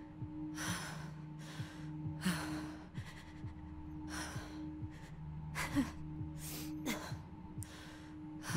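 Ragged, labored gasps from a wounded character in the game Tell Me Why repeat at a regular rhythm, close but fairly soft, over a faint steady hum.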